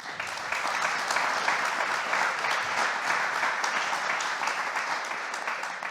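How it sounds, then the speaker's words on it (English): A conference audience gives a round of applause for a panel at a summit session, a sustained, moderately loud burst of many overlapping claps lasting several seconds without a break. "Please give a round of applause for our panel."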